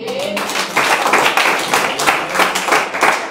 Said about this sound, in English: Give him a hand clap, man.